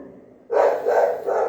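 A dog barks at someone arriving, starting abruptly after a quiet moment and continuing in three loud, close bursts.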